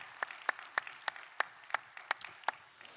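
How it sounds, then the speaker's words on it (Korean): A church congregation claps, about nine sharp, evenly spaced claps in a steady rhythm over a soft background murmur. "하나님께 영광의 박수 합시다."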